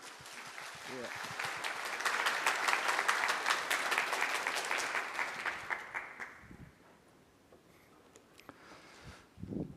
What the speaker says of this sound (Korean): 여러분, 이민아 카이스트 초빙 교수님을 큰 박수로 환영해 주시기 바랍니다.